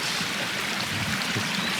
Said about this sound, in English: So I dug this trench here at the end of all the swales to direct this water into the creek.